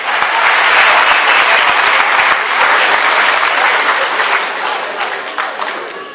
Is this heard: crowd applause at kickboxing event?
yes